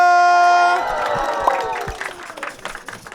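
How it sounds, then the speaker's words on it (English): Audience applause and cheering for comedians at a stand-up show rise as a held tone fades, then the clapping thins and trails off into scattered claps. "Give them a round of applause, everybody."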